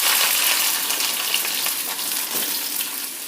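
Onion sizzling in hot oil with mustard seeds while cooking palya for Davanagere benne dosa, a steady, close, loud frying hiss with soft crackles throughout and no voices.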